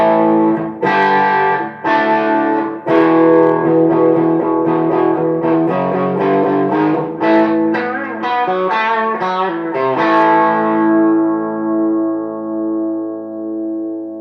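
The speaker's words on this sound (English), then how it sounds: "Back to the bridge pickup, not changing the amp at all, and just I'm going to hit it a little bit harder to get a little bit more of a rock tone." Electric guitar played on the bridge pickup through a Jet City amp, giving a distorted rock tone: a string of loud picked chords and riffs that ends on a long, fading sustained chord, with no voices.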